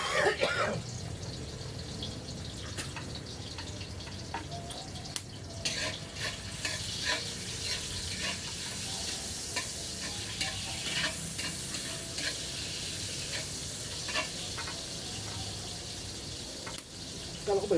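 Adobo fries in a pan while a utensil stirs it, giving a continuous sizzle with scraping, clattering stirs close by and a few brief voices in the background.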